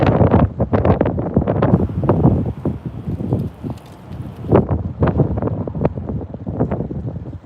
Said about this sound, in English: Look, see the wind blowing now?